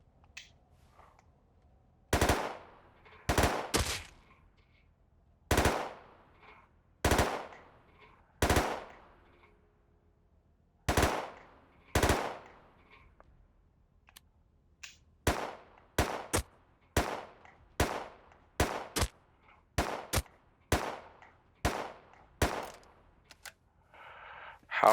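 Gunfire in the video game Rust: loud, separate shots and short bursts fired in an uneven rhythm across the whole stretch, coming faster and closer together in the second half, with near silence between them.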